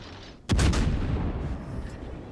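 A naval gun volley fires in World of Warships during a clan battle: one sudden heavy boom followed by a long rumbling roar that slowly decays, with no talking over it.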